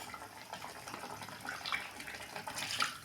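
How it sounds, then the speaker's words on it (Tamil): Water poured into a pan of eggplant gravy, a soft continuous splashing and trickling that swells briefly near the end, with no talk. "இன்னும் கொஞ்சம் கூட தண்ணி ஆட் பண்ணிக்கலாங்க."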